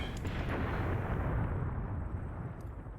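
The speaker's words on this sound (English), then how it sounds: "And that's German artillery, I would reckon" German artillery fire in the Graviteam Tactics war game, a continuous heavy rumbling barrage of blasts with no talking over it.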